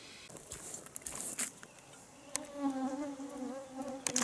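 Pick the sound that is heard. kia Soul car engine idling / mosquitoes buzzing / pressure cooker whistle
mosquitoes buzzing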